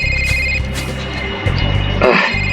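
A telephone rings with a bright electronic trill, sounding close and loud over a steady low hum, with no one speaking.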